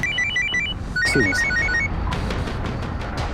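A telephone rings with repeated electronic trilling bursts in a police station office, followed by clattering handling noise as the call is picked up, with no talk.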